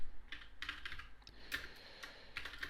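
Typing on a computer keyboard, a quick irregular patter of close, crisp key clicks in small bursts, with no talk.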